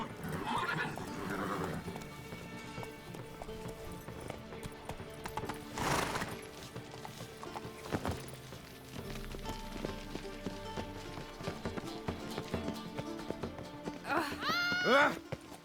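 A horse gallops in The Witcher 3 video game, its rhythmic hoofbeats steady and close throughout, with a whinny near the end. Game voices and music sit alongside the running hooves.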